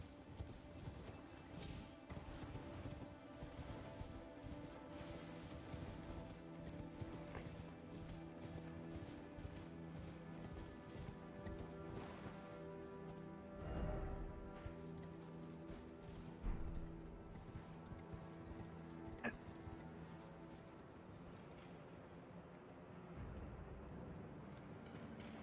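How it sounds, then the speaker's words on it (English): A horse ridden in Elden Ring clip-clops along with a steady rhythm of hoofbeats, mixed with ambient game music and occasional background effects. "It's just I want to just ride my horse right now."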